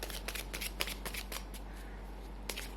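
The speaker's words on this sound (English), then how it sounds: "let me shuffle some cards for you" Tarot cards being shuffled close up: quick papery riffles and soft slaps in irregular bursts over a low steady hum, with no one talking.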